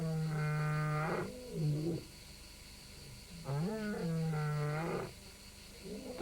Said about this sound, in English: The sounds of unfamiliar roars have alerted Tamu to imminent danger